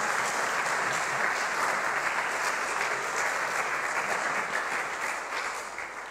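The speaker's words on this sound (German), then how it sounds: "Einen herzlichen Applaus für dich." Warm audience applause at an evening church gathering, a long, steady, moderately distant clatter of many hands that thins out slightly near the end, with no speech over it.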